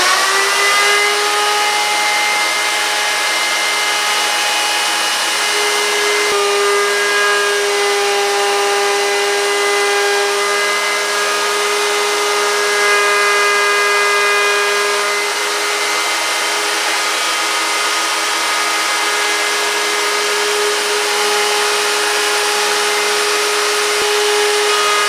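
A power tool makes a plunge cut in wood during a workbench build with drawers. It gives a steady, loud whine with sustained tonal harmonics for about 25 seconds, with no talk over it.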